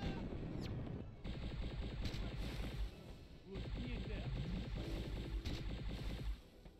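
Rapid gunfire bursts from Destroy All Humans 2 rattle in dense, repeated volleys, stopping briefly and resuming, with a voice speaking over the shooting.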